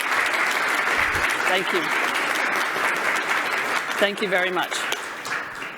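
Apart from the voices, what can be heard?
audience applause for sponsors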